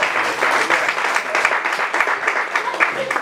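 A church congregation applauds the Lord during a sermon, steady dense clapping throughout with a lively, loud texture and faint voices mixed in.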